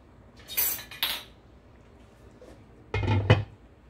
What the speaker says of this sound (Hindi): चलिए अब इसको कवर कर देते हैं।